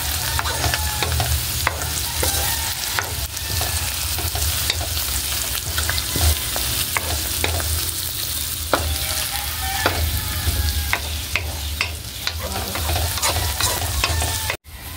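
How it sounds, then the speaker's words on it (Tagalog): Bitter gourd, egg and anchovies sizzle steadily in a hot pan while a utensil stirs and scrapes through them in irregular clinks, the frying continuing alone until it cuts off abruptly at the end. "At halu-haluin na po natin."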